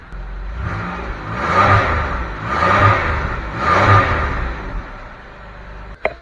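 An old Buick engine on its stock exhaust revs three times in even succession, each a smooth, muted rise and fall, heard from close behind the car with no voices.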